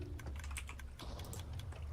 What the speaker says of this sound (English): That clicking noise is we ran out of bone meal.